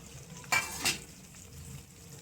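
Curry leaves and onion hit hot oil in a pan with a sharp, loud sizzle that flares twice in quick succession, then settles to a low, steady crackle. No one speaks.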